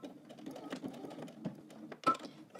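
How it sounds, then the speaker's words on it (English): Sewing machine back stitching at the start of a dress seam at a normal stitch length, with a quiet, close run of rapid ticking stitches and a sharper clack near the end. "I'm going to back stitch here and cut my thread."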